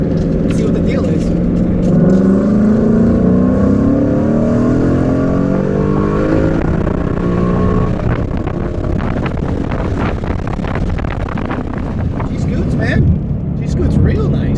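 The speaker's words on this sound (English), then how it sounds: "I'm going to put the window down so you guys can hear the exhaust." A 2018 Mustang M6 with new transmission and clutch pulls hard in second gear, its exhaust rising in a loud climbing drone through an open window, buffeted by wind noise and with a voice talking over it.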